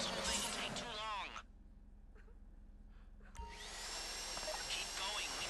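A drill boring into a safety deposit box during a bank heist in GTA Online, a loud whining grind that dips to a quieter drone midway, then surges back loud and close.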